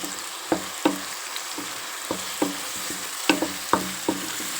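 Prawns and chana dal frying in a pan for curry: a soft continuous sizzle punctuated by about a dozen sharp spoon clinks and scrapes against the pan, close up with no voices.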